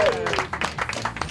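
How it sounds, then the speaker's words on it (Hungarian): Clapping and cheering from a small group at a farewell celebration for Olivér, a steady run of close, bursty claps with voices mixed in throughout. "Éljen, hurrá! Tapsoljuk meg!"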